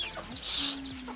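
Farmyard chickens cluck close by, a few short low clucks followed by one louder, sharper squawk in the middle, then quieter clucking again.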